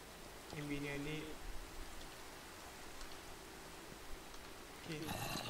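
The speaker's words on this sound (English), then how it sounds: "It's raining, okay?" Rain falling at night in Minecraft, a soft steady hiss of drops running low under the whole stretch, with brief tonal game sounds at the start and end.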